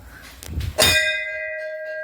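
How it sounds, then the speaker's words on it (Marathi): A temple bell at a Hanuman shrine gives one sharp metallic strike after some handling noise, then rings on with a clear, sustained, slowly fading tone. The bell is close and loud, and no one speaks. "घंटी वाजवतो, पाया पडतो।"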